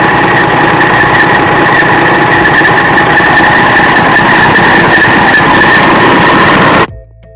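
A loud, steady 1995 Peterbilt 377 truck engine hum with a whirring, rattling mechanical whine, running close and continuous before cutting off abruptly.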